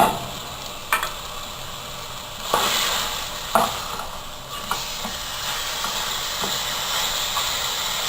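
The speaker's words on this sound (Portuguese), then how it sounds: "Enquanto tiver esse barulhinho que está estalando, está chiando, é porque está fritando." Rack of lamb sizzling on a grill, with a steady hiss and crackle throughout and several sharp pops or clanks rising above it, heard up close with no talking.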